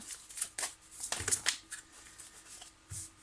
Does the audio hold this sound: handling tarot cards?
yes